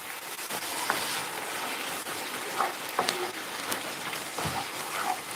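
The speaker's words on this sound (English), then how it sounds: "sizzling away." Steady sizzling of food frying in a pan, a broad hiss with a few small pops and clicks, close and continuous with no talking.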